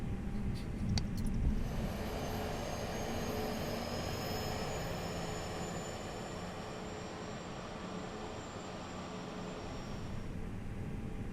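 Airbus A320 jet engines taxiing on a snowy ground in Microsoft Flight Simulator, a steady low roar with a faint high whine, constant and moderately distant, with no talking.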